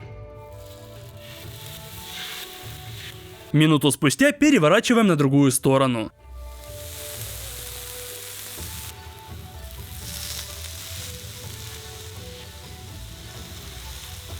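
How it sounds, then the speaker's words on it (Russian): Marinated chicken pieces fry on a hot oil-sprayed grill for ramen topping, giving a steady, close sizzle throughout, with a burst of louder cooking noise midway and a voice talking over it. "распыляем масло на горячий гриль и обжариваем куски курицы."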